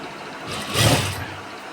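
A sewing machine stitches a cut suit fabric, running a longer seam; one brief whirring burst swells near the middle of the short clip, with quiet room tone before and after.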